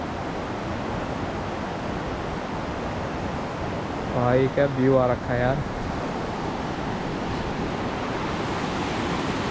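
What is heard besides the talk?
flowing water near Garjiya Devi temple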